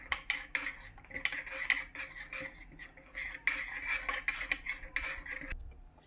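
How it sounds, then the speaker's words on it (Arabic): A metal spoon stirs coffee made with two spoonfuls of grounds, giving a run of quick, light clinks and taps against the cup in an irregular rhythm, close and fairly soft, with no talking. "هنبدا بقى نقلب"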